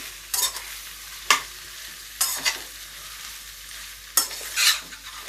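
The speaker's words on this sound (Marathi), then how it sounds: "चांगला हलवून घेऊया भाजी" A spoon scrapes and stirs potato curry in a pan four times in irregular strokes over a soft background sizzle.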